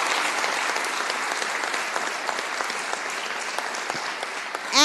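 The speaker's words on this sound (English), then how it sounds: "let's give him a round of applause" Audience at a city council meeting gives a sustained round of applause for a coach, an even, fairly loud wash of clapping hands that holds steady throughout, with a sudden louder burst at the very end.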